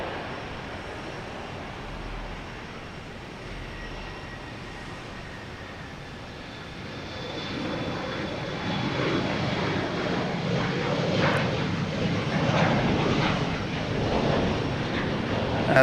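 An Airbus A340-600 jet airliner at Boston Logan Airport, its broad engine roar building from a steady distant wash to a louder, fuller rumble over the second half, heard alone without talk.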